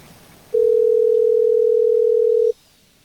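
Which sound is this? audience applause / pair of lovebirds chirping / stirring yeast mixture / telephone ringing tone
telephone ringing tone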